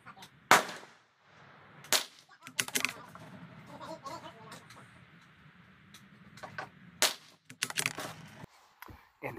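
Rifle shots with CCI Standard Velocity ammunition at a range, several sharp cracks spaced irregularly over faint background noise, fairly quiet and distant-sounding, no talk.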